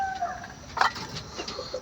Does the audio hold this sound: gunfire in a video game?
no